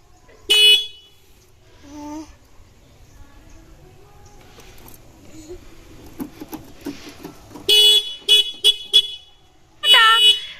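Car horn honking in short bursts, a single toot near the start, then a rapid string of beeps and a final longer blast, loud and close, with a child's and adults' voices chattering in between.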